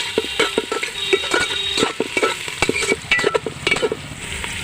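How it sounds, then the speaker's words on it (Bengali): Capsicum pieces fry and get stirred in a pan for fried rice, with steady sizzling under quick, repeated scraping and clacking strokes, close and fairly loud, with no talk. "ক্যাপসিকামগুলো হালকা হালকা ভেজে নেব। এইভাবে নাড়াচাড়া করে।"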